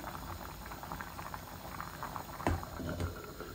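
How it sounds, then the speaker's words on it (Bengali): Potato curry bubbling at a boil in a pot, a continuous close burble of popping bubbles with a couple of louder plops toward the end. "আলুটাতেও বলক এসে গেছে দেখুন।"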